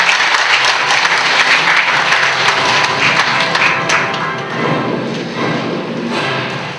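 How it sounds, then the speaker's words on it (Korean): Applause from attendees at the opening ceremony of the Korea Consumer Education Institute's Gwangju branch, loud sustained clapping from a room of people with a few thumps, tapering off slightly toward the end. "여러분 박수로 축하해 주시면 고맙겠습니다."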